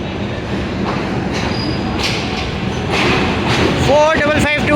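A six-car Green Line passenger train, locomotive 552 GU20, rolls past at night with steady rail rumble, clattering wheels and squeals growing toward the end, while people chat nearby.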